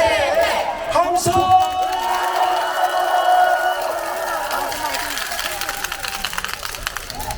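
A large crowd at a protest rally demanding a president's impeachment in Chungbuk, South Korea, cheering and shouting together, loud and sustained, with whoops and scattered clapping mixed into the roar before it gradually settles.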